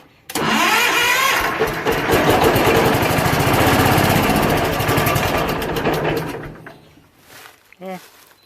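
A John Deere 712H garden tractor's small engine sputters to life and runs loudly with a rough, steady chug for several seconds, then cuts out; a brief voice follows.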